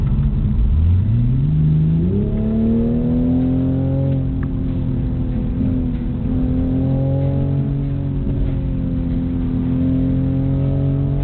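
A BMW Z4 or Toyota GR Supra in sport mode accelerates hard, its engine note climbing steadily in pitch into a loud, sustained, close-up drone with a brief dip around the middle.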